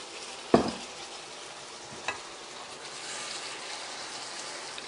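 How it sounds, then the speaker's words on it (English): Meatballs simmer in tomato sauce in a pan with a steady soft sizzle and bubbling, broken by a loud clank of a utensil against the pan and a fainter knock a moment later. "You just want it on a sort of fast simmer now until the meatballs are cooked"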